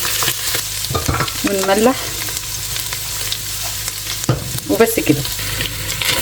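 Vegetables for moussaka being sautéed and stirred in a pot, a steady sizzle with scraping stir strokes near the start and again toward the end; a person speaks briefly.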